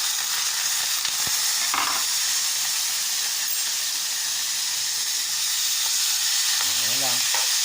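Marinated pork shoulder (kasim) frying in a pan, a loud continuous sizzle and hiss with brief stirring scrapes and a short spoken phrase near the end.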